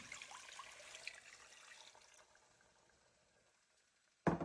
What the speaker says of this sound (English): So now we're going to put in about 2 cups of water.